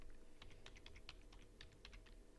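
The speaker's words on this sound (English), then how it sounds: "And we're going to start typing" Quick, light keystrokes on a computer keyboard in a quiet room, an uneven patter of soft clicks lasting a couple of seconds.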